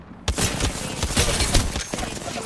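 Rapid gunfire in the video game Apex Legends, a loud close burst of repeated sharp shots over about two seconds.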